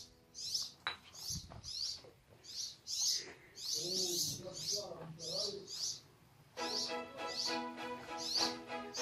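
Small birds chirp and tweet repeatedly inside a ruined old building in Kars, with short rapid calls throughout, some clattering, and people talking nearby.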